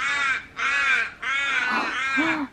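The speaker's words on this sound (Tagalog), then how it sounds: "mga ibon dyan, oh." Loud, harsh crow caws repeating in a steady series, close by, with another bird call near the end.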